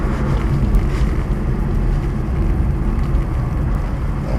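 A Subaru BRZ held in second gear in a winter corner spins its wheels, its engine a steady low roar under heavy wind and rumble noise, continuous and close throughout.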